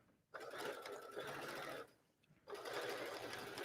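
A sewing machine runs steadily along a jeans waistband in two sustained bursts of stitching, separated by a brief pause, loud and close with no talking.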